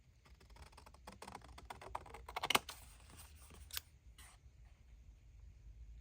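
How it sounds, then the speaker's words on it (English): Scissors snipping around a washi sticker at a craft table, a run of small crisp cuts and taps clustered in the middle, close and quiet with no talking. "we'll just grab our scissors and we'll just cut around it"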